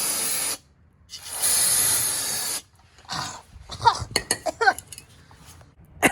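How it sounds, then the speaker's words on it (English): Brake cleaner sprayed from an aerosol can inside a Jeep Liberty rear differential: two loud close hissing bursts, followed by clinks and rattling metal handling. "Now I'm gonna clean the inside with some brake cleaner."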